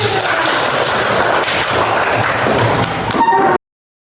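A room full of children applaud together in a classroom. The clapping is dense and continuous, then stops abruptly, with no speech heard.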